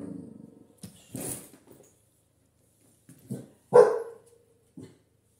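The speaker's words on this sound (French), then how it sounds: "Toujours ma chienne, excusez-la. C'est une bonne gardienne." A female dog gives a few sharp barks and yelps, scattered and close, separated by stretches of silence.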